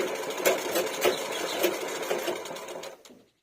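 An electric sewing machine runs steadily, started and driven by a foot pedal, with a dense whirring stitch rhythm and slight surges before it winds down and stops at the end.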